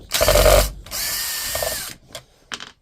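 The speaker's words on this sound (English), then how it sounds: "We'll hopefully be able to get the screws out now after that bit of rough partial cleaning." A power tool whirs in short loud bursts while backing screws out of the casing of an old Refina Megamix drill under restoration, with brief pauses between runs.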